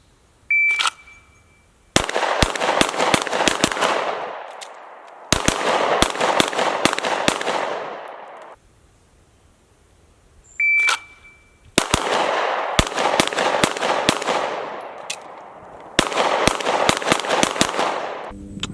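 Firearm shooting drill at targets set at 7, 15 and 25 yards, two rounds each: a short electronic start beep followed by rapid bursts of sharp, loud gunshots ringing outdoors, in four separate strings with pauses between.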